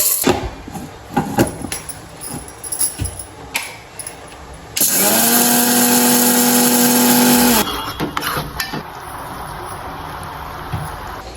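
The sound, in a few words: mixer grinder grinding roasted moong dal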